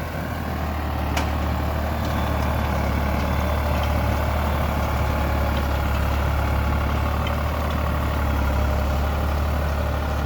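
A New Holland TD4B 65 tractor running a rotary tiller, its diesel engine holding a steady, loud, low drone throughout with no talk.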